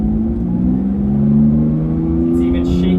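A Porsche 911 GT3 RS engine in sport mode heard from inside the car, a loud, steady droning rumble with rising tones as it holds revs, with faint talk near the end.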